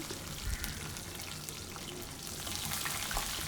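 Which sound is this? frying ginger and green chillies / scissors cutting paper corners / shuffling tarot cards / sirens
frying ginger and green chillies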